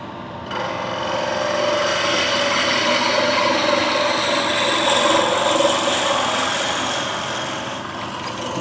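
A power drill bores steadily into material with a continuous whirring grind, loud and close, running for several seconds without pause.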